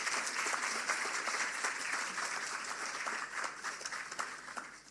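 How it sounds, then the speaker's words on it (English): Dense audience applause at a public sector awards ceremony, a steady wash of many hands clapping at moderate distance, tapering slightly toward the end. "she deserves a better round of applause than that"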